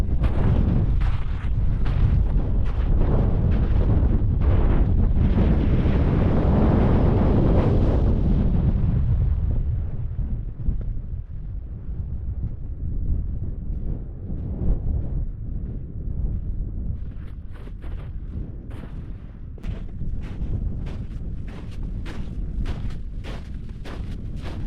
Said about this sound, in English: It's going to get windy on top of here.